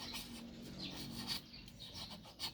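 Palm-stalk strips shaved by hand with a blade, a close, quiet series of dry rasping scrapes in an uneven rhythm, no voices.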